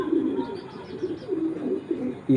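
A racing pigeon hen coos repeatedly in soft, low rhythmic bursts, close and clear, with faint background noise.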